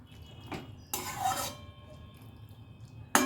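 Prawns get a brief stir in a pan with a splash of water. Separate bursts of scraping and clattering, one longer sweep in the middle, sit between quiet gaps, and only a faint sizzle runs underneath.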